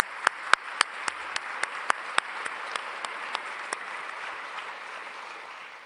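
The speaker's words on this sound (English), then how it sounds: "Please give her an applause." Applause from the audience at a political panel discussion. A thin, sparse round of individual hand claps starts crisp and fairly close, then thins out and fades within a few seconds.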